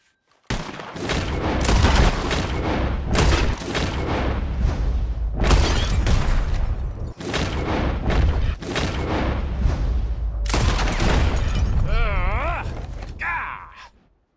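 Gunfire from a bottle-shooting challenge in Red Dead Redemption 2, loud blasts in several bursts with brief pauses, backed by game sound and ringing tails.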